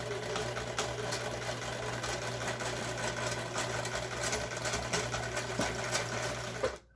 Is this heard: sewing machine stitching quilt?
yes